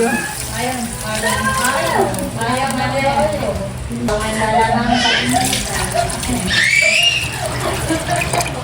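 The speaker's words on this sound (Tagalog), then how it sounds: "Ito po yatin na pong lalagyan ng sabaw, ng tubig." Water poured into a cooking pot to make broth for sinuam na langisi, a steady splashing, bubbling pour heard close up, mixed with sizzling and a voice talking throughout.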